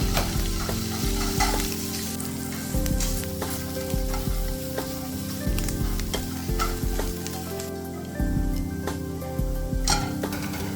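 Japchae glass noodles seasoned with soy sauce, sesame oil and sugar stir-fried in oil, giving a loud, continuous close sizzle with steady stirring and occasional light clinks of a utensil on the pan.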